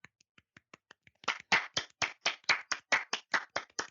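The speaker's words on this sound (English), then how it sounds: "I know clapping doesn't really work on podcasts" Hands clapping in a steady series of about sixteen sharp claps, starting with a few soft light taps and then building to loud, evenly spaced claps with no talk over them.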